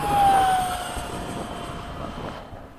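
An RC Habu 32 jet model plane flies past at high speed, its engine whine loud at first, then sliding down in pitch and fading as it moves away.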